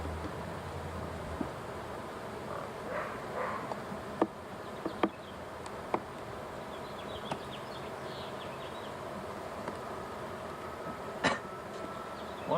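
Honeybees drone in a queenless hive opened for inspection, a dense, steady buzz throughout with occasional faint clicks and knocks from handling nearby.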